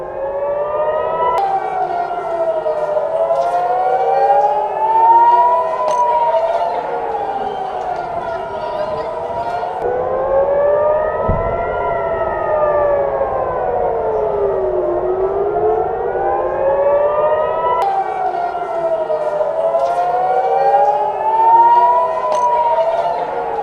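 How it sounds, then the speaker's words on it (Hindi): Air raid sirens wail continuously across Tel Aviv and Jerusalem, several overlapping tones rising and falling in long slow sweeps, loud and sustained throughout with a faint hum of the city beneath. "लगातार वहां पर तेल अवीव और यरूशलेम में सायरन बजने की आवाज है।"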